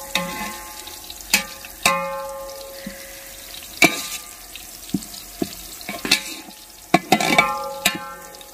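Onions fry in a pan toward browning for a desi-style feast, with a steady soft sizzle under sharp, irregular spatula clicks and stirring knocks, close by and with no talk.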